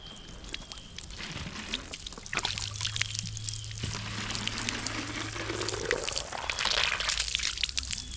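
Water trickling and splashing steadily, with a pouring, filling sound that rises in pitch as it goes, close by and continuous.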